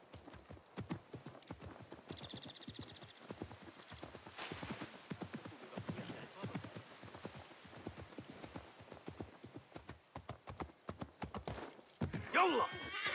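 Horse hooves clip-clop in a steady, rhythmic trot in the video game Assassin's Creed Mirage, close and fairly quiet, with a brief whinny near the end.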